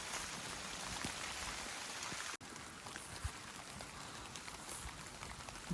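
Steady rain on the Appalachian Trail pattering on surfaces all around, a dense continuous hiss with scattered drops, briefly cut off midway.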